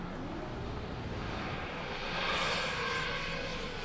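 Steady whine of an FPV drone's motors and propellers during a long-range mountain surfing flight about 2 km out, faint and distant with a slight swell midway.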